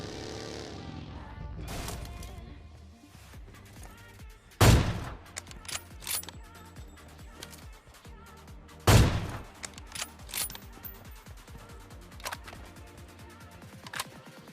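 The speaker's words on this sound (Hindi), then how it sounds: "अभी लेफ्ट में ना फायरिंग का साउंड आता है" Gunfire in PUBG Mobile Lite: two loud, sharp shots stand out amid scattered quieter pops and clicks, spaced a few seconds apart over a low background.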